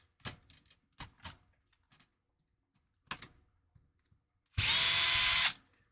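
A power drill on a trail-crawler vehicle with a panhard bar gives a loud, steady whir for about a second, after several scattered clicks and knocks from working on the chassis.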